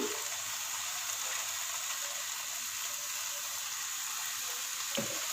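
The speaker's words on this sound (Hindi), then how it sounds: "अब हम इसको भून लेंगे।" Mutton sizzling in ghee with tomato paste for a karahi, a steady broad frying hiss that holds evenly throughout, with a faint clink of a utensil near the end.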